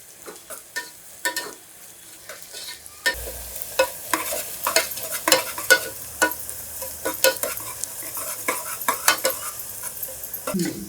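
Onions fry in oil for chicken biryani, a quiet sizzle that grows louder after a few seconds, broken by repeated clinks and scrapes of a stirring spoon, with no talk.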